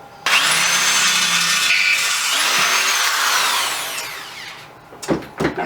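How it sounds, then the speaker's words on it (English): A loud, steady power drill grinds through the steel of a propane bottle for several seconds, its pitch whining high, then trails off into a few sharp clanks and scrapes. "I hit those holes with a punch and just drill them through."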